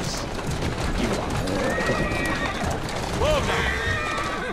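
A horse in Assassin's Creed Syndicate whinnies loudly midway through, with hooves clip-clopping and ambient game noise throughout, while a voice talks over it.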